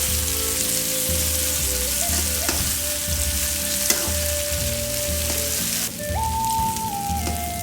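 Small shallots and green chillies sizzle steadily in a hot pan, a dense, close frying hiss with occasional stirring clatter and no talk.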